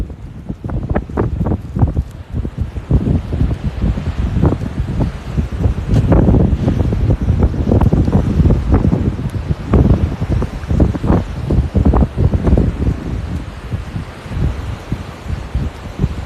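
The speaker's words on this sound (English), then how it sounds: "Is the wind very bad?" Wind gusting across the Haulover Inlet jetty in Bal Harbour, Florida, a loud, steady roar with buffeting thumps against the microphone that lasts the whole stretch, with no voices over it.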